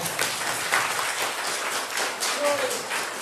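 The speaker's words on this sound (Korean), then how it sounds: "여러분 야 박수 한번 해드리겠어요?" A congregation at a Korean church Sunday service applauds a visiting district superintendent with moderate, scattered clapping while voices talk over it.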